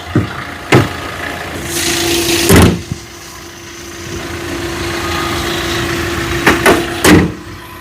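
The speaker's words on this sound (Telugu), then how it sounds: "ఇంజన్ చాలా అంటే చాలా స్మూత్గా అయితే ఉంది" A Hyundai i20 diesel car idles smoothly with a steady, even hum, broken by several loud thumps and clicks at the start and again near the end, with no talk.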